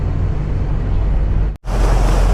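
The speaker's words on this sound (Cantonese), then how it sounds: "嗱2點半啦，而家就夠鐘開船啦。" A Star Ferry boat pulls away on Hong Kong harbour water between Tsim Sha Tsui and Central: a continuous low engine-and-water rumble with wind buffeting the microphone, briefly cutting out near the end before resuming.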